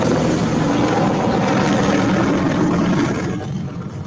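A helicopter's rotor and engine roar steadily and loudly overhead, fading a little at the very end; no talking.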